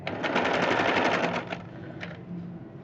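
A sewing machine stitches piping into a kurti in a steady, rapid run of close needle strokes, loud and continuous, then pausing and briefly restarting near the end.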